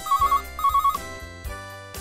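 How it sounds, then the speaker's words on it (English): A telephone bell rings loudly and close in two short trilling bursts, each a rapid metallic rattle, followed by a few sharp struck tones that fade out. "A phone bell."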